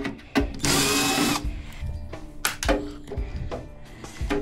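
A power drill backs safety screws out of a microwave transformer being scrapped for copper, with a loud burst of whirring followed by shorter spins and clicks, close and without talk.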